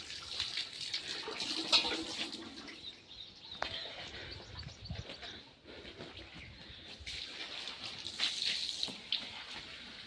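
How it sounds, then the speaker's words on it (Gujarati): Cool spring water trickles and splashes into a bottle inside the rocky Panch Pandav cave, a soft, continuous pouring with faint bird calls in the background and a quiet voice now and then. "હા તો એ બાટલો એ ભરી લઈએ આપણે."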